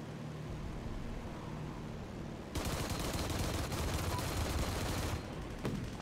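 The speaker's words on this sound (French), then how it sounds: "Ah, ça me tire depuis la tour." Sustained automatic gunfire from a tower in a war video game, a dense rattling burst that starts abruptly midway and runs for a few seconds over a steady background hiss before cutting off.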